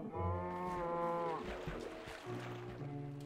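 A Minecraft cow moos twice in a low, drawn-out bellow, loud and close, with a short gap between the calls and no talk.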